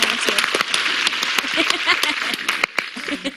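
Studio audience applause on a 1980s CBS daytime TV game show, dense steady clapping with a few sharper individual claps, filling the whole moment with light talk and laughter mixed underneath.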